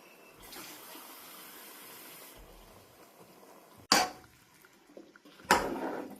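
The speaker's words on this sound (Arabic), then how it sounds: "حنضيف كاستين مي من مية الحنفية الدافية" Warm tap water runs into a cooking pot for about two seconds, followed by two sharp, loud clattering knocks of a cup or pot close by.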